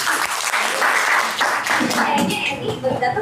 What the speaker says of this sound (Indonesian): Boleh tepuk tangan, keren